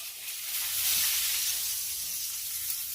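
Steak searing in a pan with butter, a steady bright hissing sizzle that holds close and even for a few seconds with no talk.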